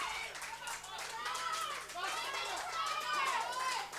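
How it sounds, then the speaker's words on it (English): Crowd of visiting football fans at a National Premier Leagues grand final, Bonnyrigg versus Metro Stars, clapping and shouting in a steady, distant wash of cheers and voices that continues throughout. "You can hear the applause and shouts"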